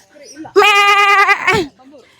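A goat lets out one loud, wavering bleat lasting about a second, close by, with quieter voices just before and after.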